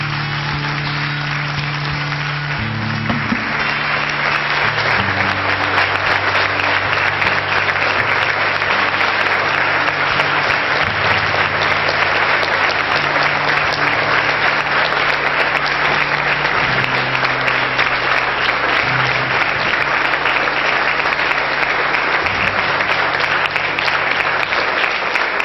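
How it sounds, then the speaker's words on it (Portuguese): A church congregation at a family worship service claps loudly and continuously, a thick sustained roar of hands under a sustained musical backing. "Vamos aplaudir ao Senhor"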